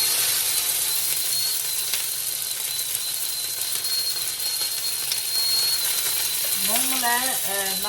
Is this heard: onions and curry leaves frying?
yes